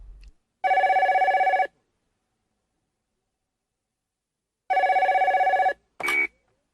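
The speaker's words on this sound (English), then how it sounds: "Then the phone rings." Telephone ringing with two long electronic rings about a second each, separated by a few seconds of silence, loud and close with no talking, followed by a brief click-like tone as the ringing stops.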